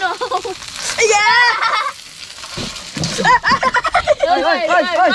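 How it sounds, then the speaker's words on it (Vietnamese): Crab sizzles and spatters while frying in a pan, a constant crackling hiss under excited, loud voices talking and exclaiming close by throughout. "Giống cái này đang chiên cua luôn trời."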